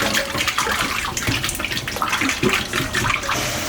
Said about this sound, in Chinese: 买回来的筒子骨先用刀撇断，1分为2，投入清水中清洗干净